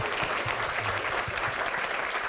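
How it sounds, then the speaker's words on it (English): An audience applauds a presenter at a web marketing presentation, dense steady clapping from a crowd throughout, moderately distant and even in level, with no voices over it. "a big round of applause for Kyle Tully."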